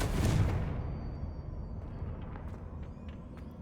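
A Confringo explosive spell cast in Hogwarts Legacy, heard as a loud booming blast that opens the clip and then fades into a rumbling tail with light crackles.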